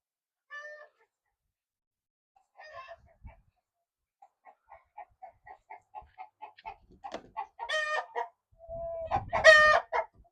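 Chickens cluck in a rising series of short calls, with a louder squawking, crowing burst near the end, close by and growing more agitated; no people talk.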